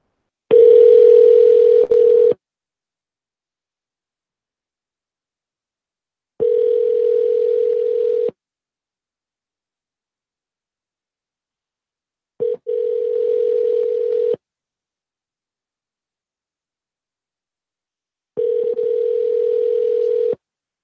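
A telephone tone plays as a call is placed: a steady, clear, loud buzz comes in four separate bursts of about two seconds each, with long silences between them.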